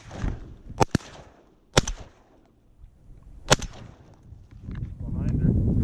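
Shotgun shots ring out while duck hunting on public land in Nebraska: three sharp, loud reports spaced about a second apart, then quieter outdoor rustle and background noise.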